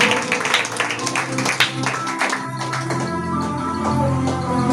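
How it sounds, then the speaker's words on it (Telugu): Loud clapping from a church congregation during a sermon, many hands striking in a dense wash that thins slightly toward the end, with some faint voices mixed in. "ఒకసారి బిగ్గర చప్పట్లు కొట్టాలి"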